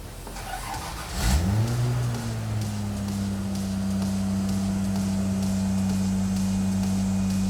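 A 1977 Toyota Celica RA28 engine catches and revs up, then settles into a steady, close, loud idle hum as the car moves back into a shed.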